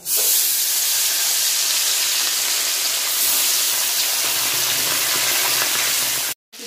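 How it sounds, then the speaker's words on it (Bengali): Tilapia fish sizzles in hot mustard oil with a loud, steady hiss and crackle that runs unbroken, then cuts off abruptly near the end. "কড়াই থেকে আগেই আমি সরষের তেল দিয়ে দিলাম, তেল গরম হয়ে গেছে, মাছ দিয়ে দেবো।"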